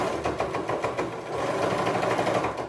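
Sewing machine stitching the hem of homemade cargo pants, a close, steady rapid mechanical whirr with quick regular needle clatter running throughout, with no talk.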